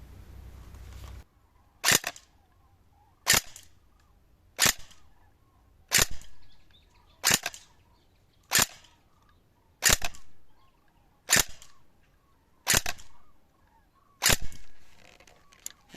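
A J.G LK58 airsoft gun fires ten sharp single shots spaced roughly a second or so apart, each a loud crisp crack with a brief decaying tail, close by and otherwise quiet between shots.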